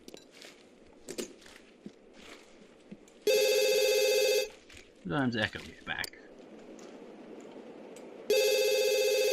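Electronic telephone ringing in The Sims 2, two loud sustained trilling bursts separated by a pause, with a voice and small game sounds in between.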